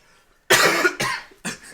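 Three harsh coughs in quick succession, close and loud, each burst shorter than the last after a quiet start.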